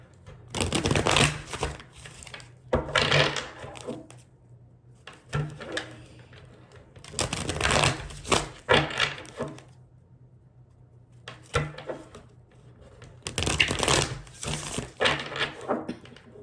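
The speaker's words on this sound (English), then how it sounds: "Sometimes I'll be wanting to shuffle off camera and just set the cards" Bursts of tarot cards being shuffled, riffled in several brisk rounds separated by short quiet pauses, close and crisp.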